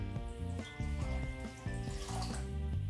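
Water is poured into a pot with sugar for popcorn ball candy, making a steady close splashing and gurgling stream that rises in pitch as the pot fills, with no talking.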